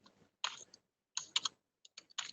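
A few quick bursts of computer keyboard typing, crisp close key clicks in short clusters separated by silence.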